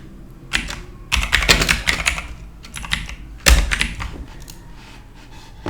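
Close bursts of rapid keystrokes on a computer keyboard, with short pauses between flurries and a few heavier key thunks.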